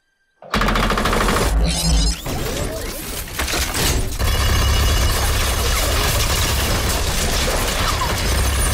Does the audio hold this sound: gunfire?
yes